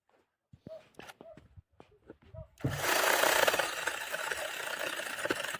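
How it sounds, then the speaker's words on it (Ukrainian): A power saw cuts wood outdoors, starting suddenly after a few sparse knocks and clicks and then running as a loud, steady rasp to the end while a woman works it at a slow pace. "ніяк не можу пристосуватися до цієї пилки, але потрошки мені спішить нема куди потихеньку попиляю"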